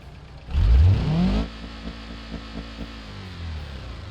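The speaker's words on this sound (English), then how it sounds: "Much different engine now. It's a flat 4." Flat-four car engine in the BeamNG.drive video game, a sharp rev burst rising then cutting back to a low throbbing idle with rhythmic pulses, alone without talk.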